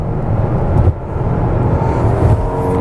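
Hyundai Palisade SUV cruising at speed on a highway, a steady low road and engine rumble with broadband tyre and wind noise, close and continuous throughout, no voices.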